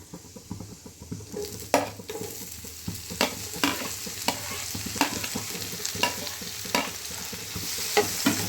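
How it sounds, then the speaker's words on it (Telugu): Mushrooms sautéing in butter with garlic in a pan, with a steady sizzle, repeated scraping of a utensil stirring them, and occasional clinks against the pan. "మష్రూమ్స్ బ్రౌన్గా వచ్చేటట్టు సాటే చేసుకుందాం."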